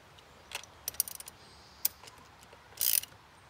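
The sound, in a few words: nut being tightened down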